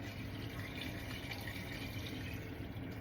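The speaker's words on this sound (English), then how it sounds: "I'm now going to pour in the water up to the mark that says maximum" Water poured into a pot for chicken stock, a steady close trickling and splashing stream at low level throughout.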